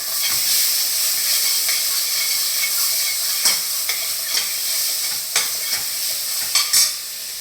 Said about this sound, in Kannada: ಈಗ ಟೊಮೆಟೊನು ಇದಕ್ಕೆ ಹಾಕ್ಬಿಡ್ತೀನಿ. ಇವಾಗ ಇದನ್ನು ಸ್ವಲ್ಪ ಬೇಯಿಸ್ಕೊಂಬಿಡೋಣ.